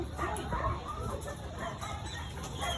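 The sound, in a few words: chickens clucking on a farm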